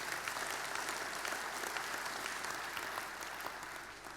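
A hall audience at the FMG Young Farmer of the Year grand final in Timaru applauds steadily, a dense even wash of many clapping hands that holds for about four seconds, heard from some distance and fairly quiet.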